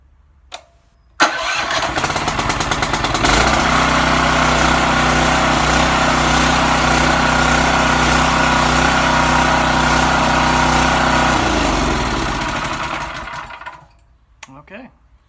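A Carroll Stream 6.5hp engine is electric-started. It catches after a brief crank and settles into a loud, steady running drone for about ten seconds, then winds down and stops.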